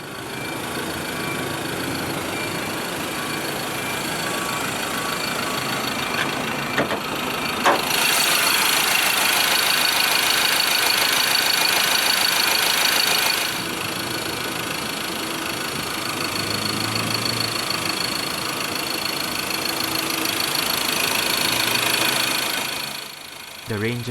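A 2013 Ford Ranger XL single cab with a detuned 2.2 Duratorq turbo diesel idles steadily at close range, a constant low rumble with a brief louder stretch in the middle.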